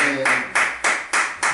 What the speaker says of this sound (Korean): 우리 하나님께 많이 박수 하겠습니다.